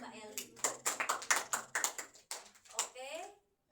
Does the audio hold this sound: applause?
yes